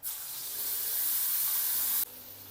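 Mixer-ground spice paste hits hot oil with cumin in a kadhai for black masala chicken gravy, giving a loud, steady sizzling hiss for about two seconds that then drops off abruptly.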